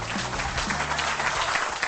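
An audience claps in a steady, dense burst of applause that holds at an even level throughout, with a low tonal hum underneath.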